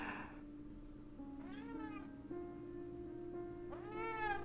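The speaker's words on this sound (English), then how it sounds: "His meows were being muffled by his shirt" A cat meows several times, drawn-out and muffled as if through a shirt, rising and falling in pitch over a steady low hum.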